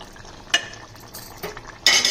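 Soya chunk curry simmers in a pan with a soft bubbling hiss, broken by several sharp scrapes and clinks as a spoon stirs against the metal.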